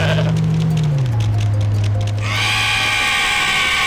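A goat bleats loudly in the game Goat Simulator, a long wavering cry that slides lower partway through and then breaks into a harsher, brighter tone, close and alone without talk.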